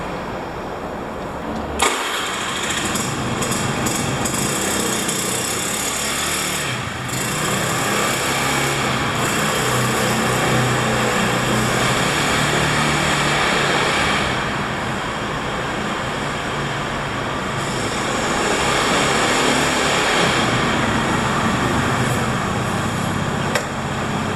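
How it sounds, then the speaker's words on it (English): A Honda Spacy scooter engine starts with a quick crank, then idles and revs in a steady high buzzing drone, close and loud, running continuously for over twenty seconds with no talk. "we're going to try to start the scooter again one more time and even take it for a spin"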